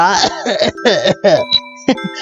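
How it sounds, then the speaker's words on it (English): A voice talks in rising, expressive bursts, then gives a short, deliberate fake throat-clearing cough, up close and fairly loud, before speaking again. "with the fake cough."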